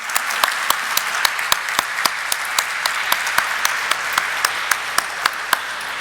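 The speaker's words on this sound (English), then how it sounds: "Let's once again have a huge, thunderous round of applause, ladies and gentlemen." Applause from the audience at the Sula Vineyards stock listing ceremony, a steady dense roar of clapping with sharper individual claps popping out regularly, sustained and fairly loud throughout.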